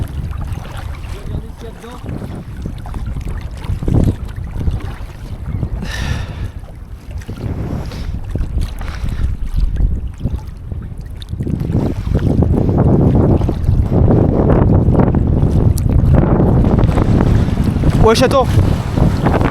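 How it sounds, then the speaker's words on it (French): Strong wind buffets the microphone while kayaking at sea off southern Finistère, a loud roaring gust that swells and persists, with water sloshing and voices talking over it. "Putain mon gars le vent de fou qu'il y a."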